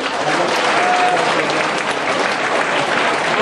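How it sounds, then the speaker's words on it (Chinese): An audience at a political talk show claps loudly and steadily, dense applause lasting the whole stretch without a break. "来掌声鼓励。"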